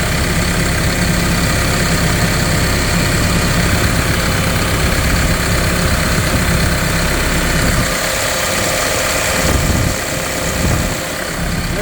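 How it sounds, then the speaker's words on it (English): A Caterpillar CS54B cab soil compactor engine idles with its hood open, a steady, loud diesel rumble running throughout, briefly dipping and shifting in tone near the end. "Want to start just in the engine before I do a video because I got the hood open already."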